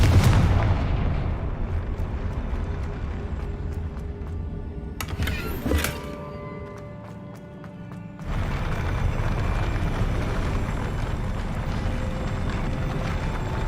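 Confringo fire spell explosions in Hogwarts Legacy, with heavy booming blasts and dense rumbling debris, a brief sharp crackle midway, a quieter lull, then another loud sustained roar.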